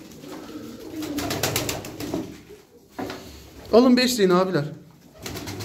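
Pigeons coo close by as a flock of about 22 birds is fed on a stormy, windy day, the soft rolling calls mixed with someone talking over them.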